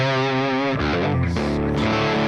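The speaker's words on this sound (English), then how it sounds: "That's called distortion." A heavily distorted electric guitar rings out with a sustained, buzzing chord that breaks into harsher, gritty notes, loud and alone without talk.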